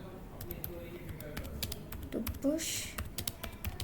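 Keys clatter on a computer keyboard in scattered bursts, quiet and close, while someone talks over the typing.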